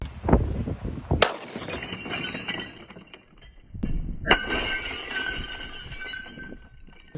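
Glass smashed into pieces for walk-on-glass training, sharp shattering crashes and tinkling shards, with bursts and brief pauses between them.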